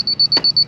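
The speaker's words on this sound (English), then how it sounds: "once it beeps right there, that's when we know that it's exactly where it's supposed to be" Short, high electronic beeps from a leveling instrument on a house-building site repeat in a steady, fast rhythm, with a brief soft knock partway through; no voices.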